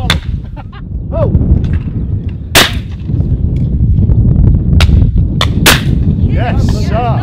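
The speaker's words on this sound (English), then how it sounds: "Oh, beautiful shooting there, mate." Shotguns fire at clay targets during a Beretta World sporting clays shoot, sending out sharp, loud cracks at irregular intervals over outdoor background noise, with people calling out between shots.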